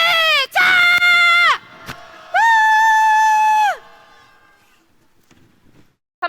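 Crowd at a Korean Labor Day rally in Ulsan letting out two long, loud sustained shouts of cheering, each holding a steady pitch for over a second, separated by a short pause with faint murmurs.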